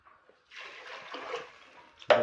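Tap water runs steadily in a village kitchen during lunch cooking, a soft continuous splash for over a second and a half before a sharper burst as the flow is shut off.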